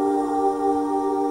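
Dozens of stacked vocal harmonies blend into one smooth, sustained choral pad, held steady and soft with no other sounds.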